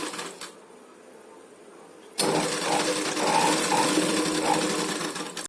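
An electric sewing machine runs and stitches a zip into fabric, a steady, fast buzzing whir that starts abruptly after a quiet stretch of faint background hiss and runs loud and close until it stops at the end.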